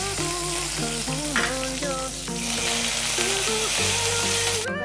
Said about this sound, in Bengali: সর্ষেটা একটু ফুটে উঠলে দিয়ে দিলাম 2টো শুকনো লঙ্কা, দিয়ে দিলাম কারিয়া পাতা।